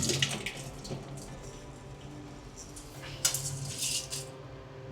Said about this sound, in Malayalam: ലാസ്റ്റ് റൗണ്ട് നമ്മളെ നല്ല വെള്ളത്തിലും കഴുകും.